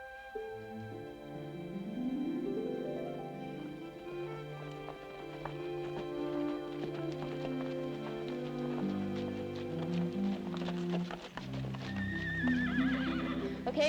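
A horse whinnies in a long rising and falling call, with hooves clip-clopping steadily and the animal's snorting and movement close by, no talk.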